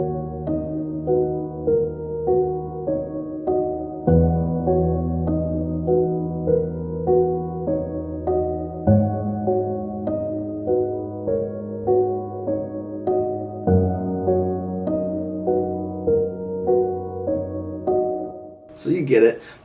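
Soft felt piano layered with an upright piano library plays a slow, gentle melody of sustained notes and changing low chords, close and mellow, ending with a brief noisy burst.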